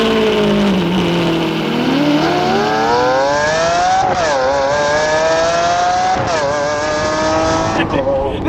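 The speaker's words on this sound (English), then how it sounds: "This is a cold start on a 2012 Lamborghini Aventador." A 2012 Lamborghini Aventador engine starts cold, firing up loudly and climbing through rising revs with repeated surges and brief drops, close and dominant throughout.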